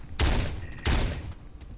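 Two heavy gunshot bursts from the video game Teleglitch, spaced under a second apart, loud and boomy with a brief tail after each, no talking over them.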